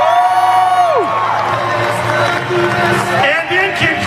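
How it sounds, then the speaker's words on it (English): Crowd cheering and whooping with applause fills an indoor arena at a monster truck show, loud and sustained throughout, with a drawn-out shout over the din. "Please give a round of applause to your firemen, policemen, and emergency services."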